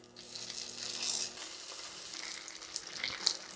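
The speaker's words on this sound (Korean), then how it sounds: "이제 식용유를 두르고 군만두를 만들어 보도록 하겠습니다" Mandu dumplings frying in cooking oil in a pan over medium heat, a steady close sizzle with soft crackling and spatter throughout, no voices.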